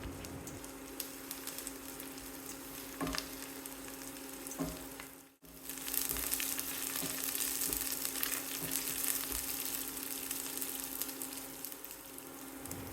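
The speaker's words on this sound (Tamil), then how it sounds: "1/2 டீஸ்பூன் வெந்தயம், வெங்காயம் பூண்டு கருவேப்பிலை சேர்த்துட்டு 1 நிமிஷம் வரைக்கும் வதக்கணும்." Fenugreek seeds, onion, garlic and curry leaves sizzle steadily in a hot pan, a continuous close frying crackle with a brief dip midway before resuming louder, no voices.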